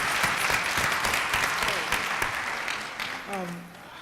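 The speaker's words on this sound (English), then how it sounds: "Give him another round of applause." Dense, loud applause from a town hall audience at a meeting on domestic violence gradually thins and fades, while a voice starts speaking near the end.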